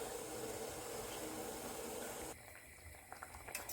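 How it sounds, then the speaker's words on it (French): Apricots steaming in a covered pot, a steady broadband hiss and bubbling that holds evenly, then drops to a quieter, sparser simmer with a few soft clicks near the end. "Je vais les faire cuire en vapeur pendant 5 petites minutes."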